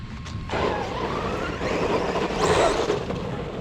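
An Arrma Quake 3S RC car revs hard, its electric motor whining loudly and rising in bursts as it accelerates close by, with the pitch climbing toward the end.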